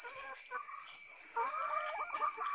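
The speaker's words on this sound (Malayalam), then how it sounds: "BV380 ഇനത്തിൽപ്പെടുന്ന മുട്ടക്കോഴികളാണ്." BV380 laying hens in a small high-tech cage give soft, broken clucks close by, over a steady high-pitched electrical whine that runs the whole time.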